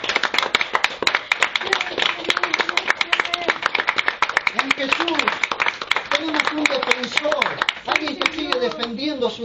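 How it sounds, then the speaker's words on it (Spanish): Scattered clapping rises into applause from a church congregation during a sermon, with voices calling out over the sharp, irregular hand claps. "Sí, denle un aplauso fuerte"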